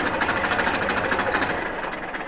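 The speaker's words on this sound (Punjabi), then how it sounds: "ਤੁਹਾਨੂੰ ਸੈਲਫ ਸਟਾਰਟਿੰਗ ਦਿਖਾਉਣੀ ਟਰੈਕਟਰ ਦੀ" A 2002 Massey 241 tractor diesel engine runs after a self-start, a steady, close chugging knock with a fast even rhythm and no talk over it.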